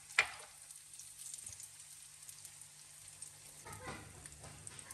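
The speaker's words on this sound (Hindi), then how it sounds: "मैंने देसी घी डाल लिया है फ्राई पैन में और घी को कर रहे हैं गरम" Soft, quiet sizzling and crackling of desi ghee heating in a frying pan, steady and low with a few small pops.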